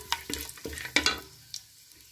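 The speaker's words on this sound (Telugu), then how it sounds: "అనాస పువ్వు, 1 మరాఠీ మొగ్గ, 4-5 లవంగాలు, 1 బిర్యానీ ఆకు వేసి వేయించుకోవాలి" Whole star anise, marathi moggu, cloves and a bay leaf frying in a pan for soya chunk biryani, heard as a faint sizzle broken by several distinct stirring scrapes and clinks, with no talking.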